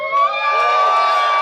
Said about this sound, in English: You can cheer for Caleb.